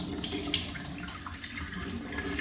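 Sticky rice being rinsed in a basin, with steady running tap water and soft sloshing throughout, close and continuous without any talking.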